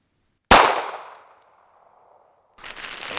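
A single sharp, loud gunshot from a .380 ACP pistol fired into a sandbag cracks out after a moment of silence, then rings off and decays, followed by outdoor noise.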